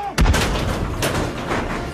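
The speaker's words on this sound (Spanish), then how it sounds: "La intensidad de los disparos en el interior de la casa está aumentando." Gunfire inside a house, a loud sharp blast near the start followed by further bangs and rumbling echoes, heavy and close.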